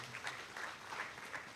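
Lecture audience applauding with a light, fairly faint patter of clapping, steady through the short stretch, with no voices over it.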